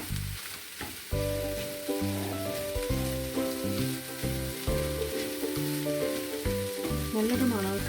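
Egg curry with cauliflower and vegetables is stirred as it fries in a pan, a steady soft sizzle running beneath prominent tuneful background music.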